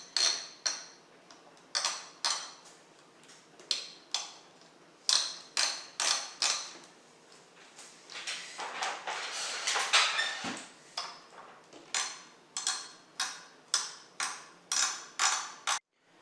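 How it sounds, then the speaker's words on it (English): Spring-loaded screws on an AMD Ryzen CPU cooler ticking as they are tightened evenly during a PC build, a steady series of close, sharp clicks in bursts with short pauses, a denser rattling stretch midway, and no talking. "The sound you're hearing is the spring loader."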